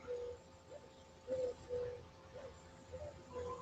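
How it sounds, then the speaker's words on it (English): Soft, low cooing calls repeat every half second or so, faint and somewhat distant, with a quiet hum of background noise beneath them. "you can really hear the doves cooing now"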